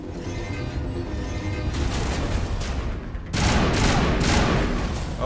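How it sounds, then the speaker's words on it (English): A 3-round burst gun fires in Mass Effect, with loud gunfire in short clustered bursts and sharp repeated cracks that grow denser and louder in the second half, set against continuous combat noise. "Oh, it's a 3-round burst gun."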